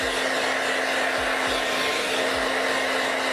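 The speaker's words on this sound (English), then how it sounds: "I gotta get my blow dryer up there." A blow dryer runs continuously at close range, a steady whooshing roar with a constant hum and a few faint low thumps.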